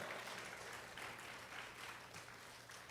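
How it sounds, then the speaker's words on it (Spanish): Applause from a church congregation during a Spanish-language sermon, a steady wash of clapping held at a low, distant level throughout with no talking over it. "Denle un aplauso fuerte al Señor."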